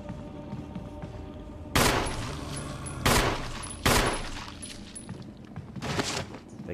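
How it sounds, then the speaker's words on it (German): Three loud, sharp gunshots from a handgun in the Resident Evil Remaster video game, spaced about a second apart over a low ambient hum, with a fainter fourth burst near the end. "Drei Schuss haben wir abgegeben"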